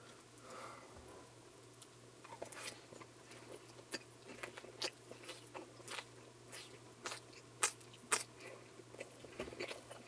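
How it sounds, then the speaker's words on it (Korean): Close-miked eating of thin-sliced pork belly with green onion kimchi: quiet, repeated crunchy bites and wet chewing in an irregular rhythm, with no talk. "파김치랑 일단 대패 삼겹살을 하나 먹어볼게요"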